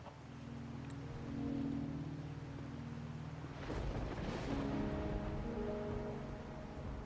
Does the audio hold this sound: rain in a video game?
yes